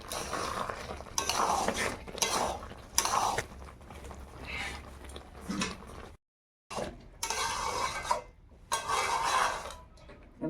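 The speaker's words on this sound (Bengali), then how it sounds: "এটা ভালো করে মিশিয়ে নেব।" Sago khichdi being stirred in a pot with mixed-in roasted ground spices, a scraping, clinking spoon working in bursts, fairly close, with a brief silent gap midway.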